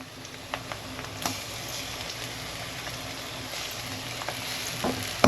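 Ginger garlic paste sautés in a pan for chicken curry, making a steady, close frying hiss with occasional light taps of a spatula against the pan.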